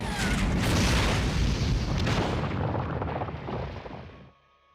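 A nuclear weapon explosion in the video game SMT: Strange Journey Redux: a loud, dense, roaring boom that rumbles steadily for about four seconds, then cuts off abruptly into near silence.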